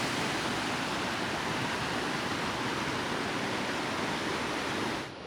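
Cold snowmelt stream rushing beside bubbling volcanic mud pits in the Sierra Nevada, a steady close broadband wash of flowing water with no pauses, cutting off abruptly at the very end.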